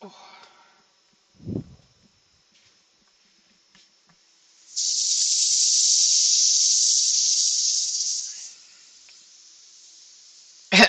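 English oak bowl being sanded on a lathe, a steady broad hiss running for several seconds before cutting off, with a fainter hiss continuing and a few brief knocks and short sounds around it.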